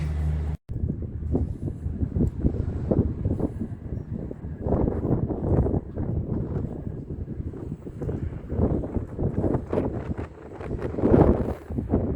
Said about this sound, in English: Still fairly breezy, a bit airy.